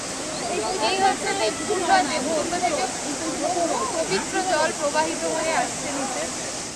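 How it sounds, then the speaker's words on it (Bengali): A steady roaring rush of the waterfall at Deokund carries on throughout, with people talking over it. "নিচ থেকে ঝর্ণাটা কেমন দেখ"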